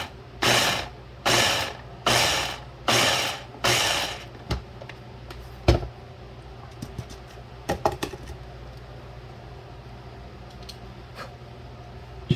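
A Ninja kitchen chopper motor pulses five times in quick succession while chopping strawberries for a strawberry tres leches, each burst loud and about half a second long, followed by faint clicks and handling of the container.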